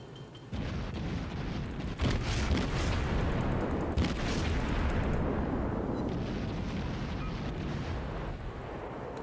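Naval gunfire from a T6 Aoba cruiser in the World of Warships video game: heavy, rumbling booms that roll over one another, with sharper blasts rising out of a dense, continuous barrage.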